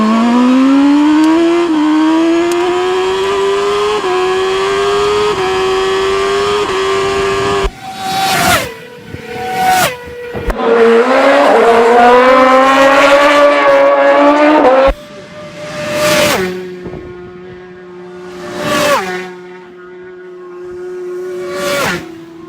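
Racing motorcycles on the Isle of Man Tourist Trophy road course, ridden at over 200 km/h: a loud, sustained engine whine rising in pitch, then several separate machines roaring past close by in quick bursts with brief gaps between them.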